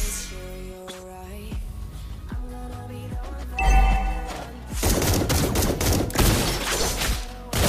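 Granger's gunshots in the Mobile Legends game, a string of loud bursts following tonal musical chimes, ending in a dense crackling volley.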